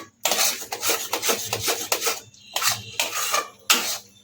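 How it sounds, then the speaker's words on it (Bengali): Jaggery barfi mixture being stirred and scraped in a wok, a quick run of loud rasping metal strokes, then a short pause and a few more firm scrapes, close and with no talking. "এটাকে নাড়তে নাড়তে একটু শুকনো করা হবে"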